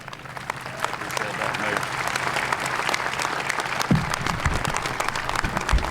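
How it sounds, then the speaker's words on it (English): An audience at a ribbon-cutting ceremony for the Atlanta Public Safety Training Center gives a sustained round of applause for Georgia Governor Brian Kemp, steady and dense clapping from a large crowd with a few louder thumps near the end. "Please get on your feet and give a rousing round of applause for the 83rd governor of the state of Georgia"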